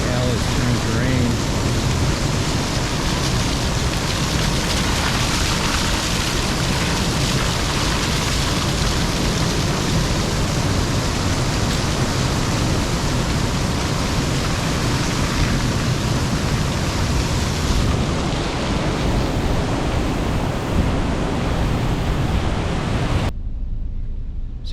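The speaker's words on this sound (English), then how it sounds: "Well, the hail has turned to rain." Heavy rain and storm noise heard from inside a van after a hailstorm in South Dakota, a loud constant hissing downpour drumming on the roof for the whole stretch, cutting off abruptly at the end.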